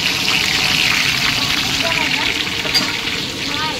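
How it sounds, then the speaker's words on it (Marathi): Chili and curry leaves frying in hot oil: a steady, even sizzle that holds at one level throughout. "तेलामध्ये मिरची आणि कढीपत्ता टाकून फ्राय करून घेतलं"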